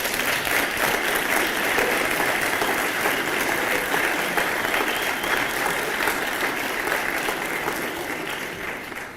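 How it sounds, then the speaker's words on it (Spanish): Audience applause at a university speech at Stanford, a dense, loud, sustained clapping from a large crowd that holds steady and then eases slightly toward the end. "a mí me pone muy contento cuando aplauden a mi ministro de Economía"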